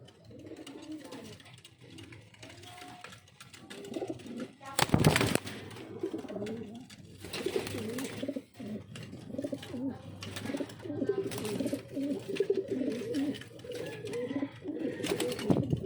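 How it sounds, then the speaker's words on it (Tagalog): Pigeons coo repeatedly in soft, throaty calls, with several birds overlapping and occasional flutters and faint voices in the background. "Ito yung kay ibon ni Sir Normante."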